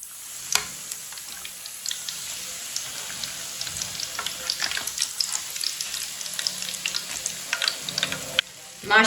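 Gobhi (cauliflower) chapli kebabs fry in hot oil with a steady close crackling sizzle, broken by occasional louder pops and stirring clatter, ending in a brief pause and a final burst.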